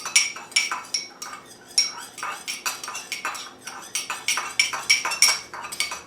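Seasoning mixed in a bowl with a metal utensil for a roasted rabbit rub, a rapid run of clinking, scraping taps against the bowl in uneven bursts, close and bright, with no talking.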